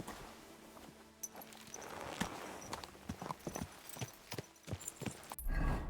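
Horse hooves clip-clop in a steady walking rhythm through a Kingdom Come Deliverance 2 game scene, close and moderately loud, with sharp irregular strikes over a low ambient bed.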